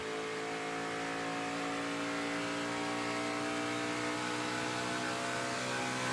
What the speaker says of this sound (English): They sound like Indy cars.